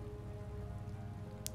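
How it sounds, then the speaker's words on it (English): Rain falls steadily in the video game Tales of Vesperia, a continuous hiss of drops over a low, even background hum, with one brief brighter tick near the end. "It's raining after all."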